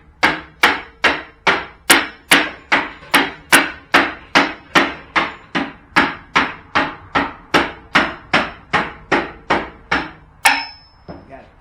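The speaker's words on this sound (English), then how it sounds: "First thing you need is a hammer." A hammer strikes wood during a workshop build, around twenty loud, evenly spaced blows landing close by at a steady rhythm, ending with a sharper final knock.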